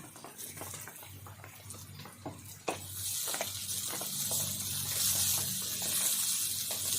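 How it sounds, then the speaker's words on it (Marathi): Chopped onion sautés in a hot pan with a continuous sizzling hiss that grows louder and brighter partway through and then holds steady. "कांदा पाच मिनिट असं परतून घेऊ"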